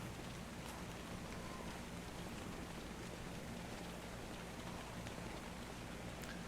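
Steady acid rain in a multiplayer video game tournament, a dense even hiss of falling drops with no breaks, heard alone without talk.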